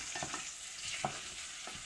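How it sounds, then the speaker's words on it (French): Onions and garlic fry in a saucepan, giving a soft, steady sizzle with a few light stirring scrapes, faint and close, with no talking. "on va commencer par mettre les oignons, pareil, on va les faire revenir"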